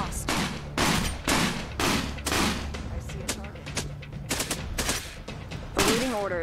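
Gunfire in the video game Cepheus Protocol: dense bursts of automatic fire and heavy booming shots in quick, uneven succession, loud and continuous throughout.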